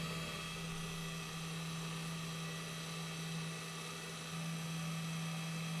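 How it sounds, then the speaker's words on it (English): A Bosch pillar drill bores axle holes in wood for a handmade Christmas toy, giving a steady, close, loud motor whine with a strong constant hum and no talk over it. "the last bit remaining holes here I'm cutting with this drill bit for the axles"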